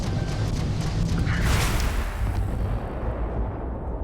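Heavy cannon fire from a spaceship in a space combat video game, a dense rumbling barrage of booms that swells loudly around the middle and then eases off while staying sustained.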